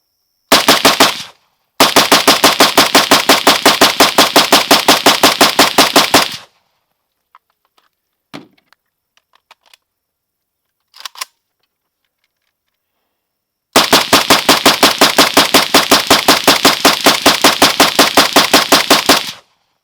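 Loud, rapid bursts of gunfire from a firearm fitted with a Krebs Custom UFM rail, firing heavier rounds. A short burst, then a long sustained string, a quiet gap with faint clicks, and another long rapid string, with no talk.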